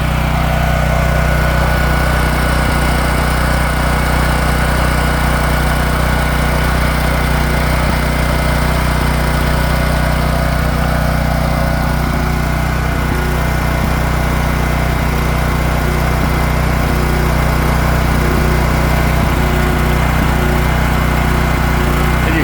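A Champion dual-fuel generator drones loud and close, a steady engine hum with a slight wavering unevenness as it runs low on gas, with no one talking.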